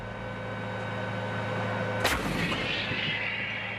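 A single heavy cannon blast from an M109A7 Paladin self-propelled howitzer booms out over a steady engine rumble, followed by a brief rushing decay.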